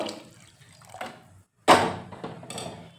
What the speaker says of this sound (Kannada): ಮಿಕ್ಸಿ ಜಾರ್ ತೊಳೆದಿರೋ ನೀರನ್ನು ಹಾಕ್ಕೊಂಡು